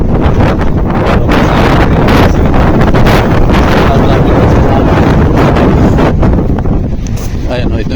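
Strong wind roars steadily into the microphone at an asphalt construction site in Japan, a loud continuous buffeting rush that never lets up.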